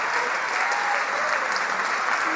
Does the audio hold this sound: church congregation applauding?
yes